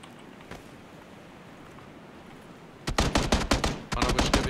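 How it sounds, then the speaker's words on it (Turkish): PUBG video-game gunfire breaks a quiet stretch with a rhythmic series of sharp, loud shots, a brief pause, then another rapid burst of firing. "Sağdan vuruyor, sağdan vuruyor"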